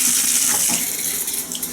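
Hotel shower water running steadily from the shower head at a Quality Inn near St. Louis Airport, a close, continuous spray hiss without speech.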